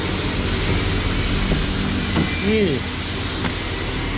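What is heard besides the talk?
Mitsubishi Jetstar pickup engine starting and running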